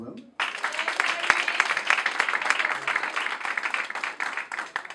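A small group claps for a presenter at a local news gathering, a brisk, moderately close patter of hands that starts abruptly and continues evenly throughout.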